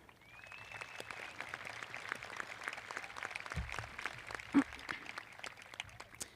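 Scattered applause fills a high school graduation ceremony as faculty and staff in the stands are recognized, thin and distant clapping with a brief louder thump partway through.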